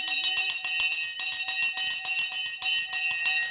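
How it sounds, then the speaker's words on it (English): Stock market opening bell ringing as a rapid, continuous metallic clatter of struck strokes, bright and steady for several seconds with no talk over it. "Let's ring the bell."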